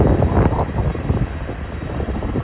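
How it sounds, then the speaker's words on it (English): A KLM Cityhopper airliner approaches at Schiphol airport, heard as a steady, distant jet roar mixed with light wind noise. "in the background of the A330 there's a city hopper of KLM coming this way"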